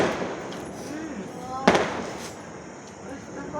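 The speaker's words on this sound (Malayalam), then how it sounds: "മൊത്തം പടക്കം" On New Year's night, a single sharp firecracker bang cracks out partway through, set against a low wash of background murmur and faint festive noise.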